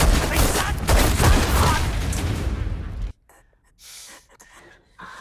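A Malefic Gun item fires a loud, dense burst of rapid shots for about three seconds, then cuts to near silence with a few faint sounds after.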